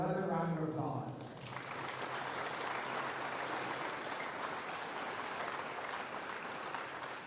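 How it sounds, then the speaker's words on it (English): A school Veterans Day assembly audience breaks into a round of applause, broad sustained clapping from a big crowd that swells in after a brief tonal opening and then holds steady, fairly distant and even. "Let's give them another round of applause."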